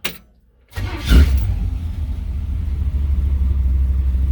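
A 1972 Chevrolet C-10 pickup truck engine starts after fuel system repairs: a brief cranking burst, a short pause, then the engine catches with a loud surge and settles into a steady, low rumbling idle.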